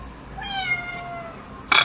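A cat meows once in a long, drawn-out call with a falling tone, close by, followed by a brief sharp rustle or clatter.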